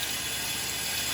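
Tap water runs in a steady, close rush of noise at a sink, being used to wet the outside of old vintage cans before cleaning, with no voices over it.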